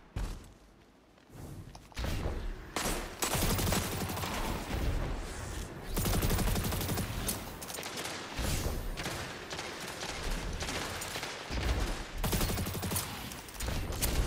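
Rapid gunfire from SMGs and other weapons in the shooter Destiny 2, dense bursts and volleys with thuds running almost continuously and loud, broken by a few short gaps.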